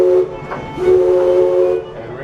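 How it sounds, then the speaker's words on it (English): The steam whistle on Disneyland's Mark Twain riverboat blows twice, two loud sustained tones, a short first blast and then a longer second one, with faint voices in the background. "All right, Karen, go ahead and blow the whistle 2 times."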